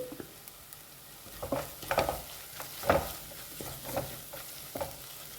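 Masala is being dry-roasted and fried in a pan, with close, irregular scrapes and stirs over a soft, continuous sizzle.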